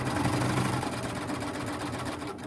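A BabyLock Triumph serger stitches a fabric mask through a binder attachment, giving a steady, rapid mechanical whir with a fast even rhythm, fairly quiet and continuous throughout.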